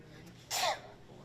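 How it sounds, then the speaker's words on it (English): A single short sneeze bursts out at a live telethon, one sharp, close blast of breath lasting a fraction of a second against a quiet room. "I can move whatever it is so you can stop sneezing."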